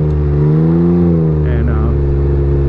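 A Can-Am Ryker Rally with a Silber Turbo tunable exhaust, fitted with one baffle, rides along the highway. Its close, loud engine holds a smooth tone that rises and falls with the throttle.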